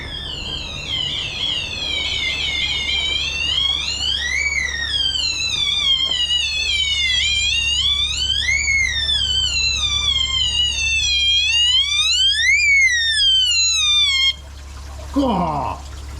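A loud electronic alarm sounds continuously, its tone sweeping up and down in repeated wailing cycles, then cuts off abruptly near the end.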